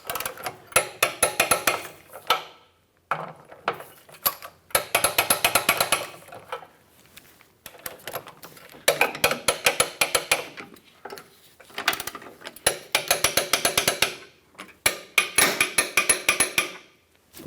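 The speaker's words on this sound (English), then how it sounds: "we can go ahead and torque these to 45 foot-pounds" A torque wrench tightens the rear lower control arm bolts on a 2008-2012 Jeep Liberty, giving several bursts of rapid, close metallic ratcheting clicks separated by short pauses.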